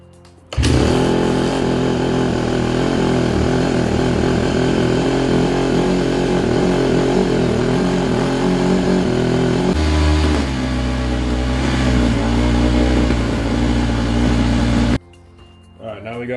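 A Honda CRF150R dirt bike engine runs loud and close for about fourteen seconds, a buzzing steady idle with a brief rev shift partway through, before cutting off abruptly near the end.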